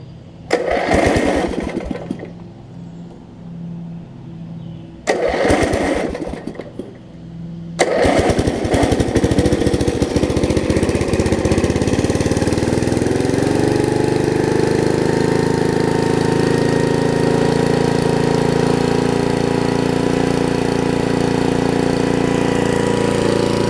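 A Murray riding lawn mower engine sputters and cranks in two short bursts, then catches and runs steadily at a loud, even drone that holds for the rest of the time.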